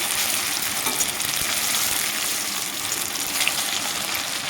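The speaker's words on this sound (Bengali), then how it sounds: "এইভাবে আমি সবগুলো ভেজে নেব" Pieces of spiny gourd (kakrol) fry in hot oil, giving a steady, dense crackling sizzle that holds evenly from start to end with no voices over it.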